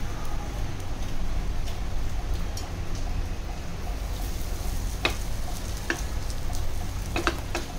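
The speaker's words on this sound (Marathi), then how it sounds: "त्याच पॅनमध्ये आपलं पापलेट तळून घेणार आहे." Pomfret fish fries in oil in a pan over medium-high heat, giving a continuous, even sizzle with occasional sharp ticks and pops scattered through it.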